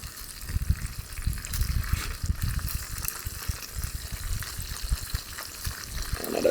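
Whole chicken frying in a covered cast iron pan outdoors over a Jamaican cooking fire, a continuous rough bubbling sizzle with low rumbling crackle, close and steady with no speech.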